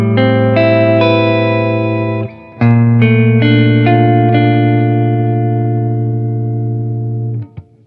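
Electric guitar chords through humbucker pickups ring out loud and sustained, a thick, warm tone; two strummed chords, each left to ring long before fading.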